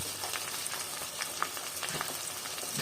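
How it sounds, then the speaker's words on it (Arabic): Eggs and homemade pastrami sizzle and crackle in a pan, with a soft steady frying hiss, scattered pops, and faint stirring scrapes. "ونقلب تاني البيض مع البسطرمه اللي احنا عاملينها"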